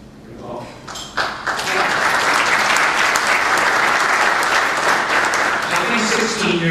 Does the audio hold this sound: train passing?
no